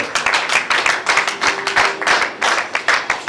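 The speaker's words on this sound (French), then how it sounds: "Est-ce qu'on peut aussi applaudir pour lui," An audience at a reconciliation day gathering claps steadily in a brisk, dense patter of many hands, close and fairly loud, with no voices over it.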